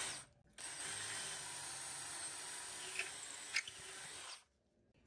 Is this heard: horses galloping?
no